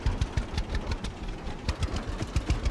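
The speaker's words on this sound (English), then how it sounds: "This really isn't a yard mower though either. It's a heavy-duty mower." A heavy-duty tractor mower engine in the farming game Farmers Dynasty chugs with a steady, rhythmic knocking pulse, close and fairly loud, running alone without speech.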